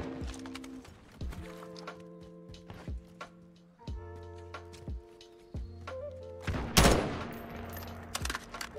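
Shotgun blasts in Modern Warfare 2 gameplay ring out as a series of sharp, separated shots at irregular intervals, with a louder burst near the end, over faint game background sounds.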